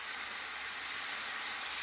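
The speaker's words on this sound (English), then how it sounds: "I've had to fry this in 2 because there's so much lamb." Lamb pieces frying in a pan for a Lancashire hotpot, a steady, even broadband sizzle holding at a constant moderate level throughout, with no voices.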